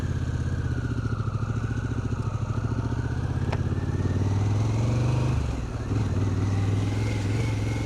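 Motorcycle engine running steadily on a remote ride in New Zealand, a close, loud, rapid pulsing drone that dips briefly near the end before picking back up.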